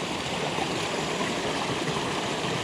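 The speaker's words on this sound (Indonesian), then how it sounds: "Tuh lihat air terjun kecil." Small waterfall on a trekking trail, heard as a close, continuous rushing and splashing of water that holds steady and alone throughout.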